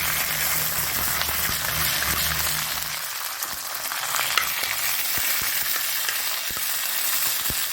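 Curry leaves fry in pure ghee with a bright, continuous sizzle and crackle, close and loud, over a low hum at the start that fades out, with occasional soft pops.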